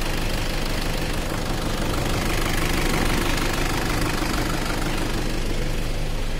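A Toyota Hilux 2KD common-rail diesel engine runs during a purging clean, giving a close, steady idle with a dense rattling diesel knock that never lets up, and no voices.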